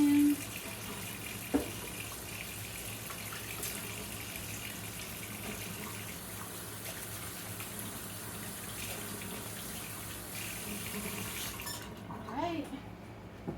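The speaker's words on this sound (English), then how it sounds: "Wash my hands." Tap water runs steadily into a kitchen sink while hands are washed, a soft continuous hiss under a faint voice, then cutting off near the end.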